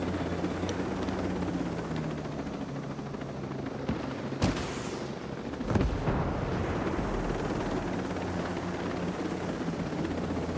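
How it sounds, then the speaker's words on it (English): An incoming rocket explodes in Ghost Recon Breakpoint, a sharp broadband blast cutting through a steady roar of helicopter rotor and gunfire, followed by a second impact a moment later. "Watch incoming rocket!"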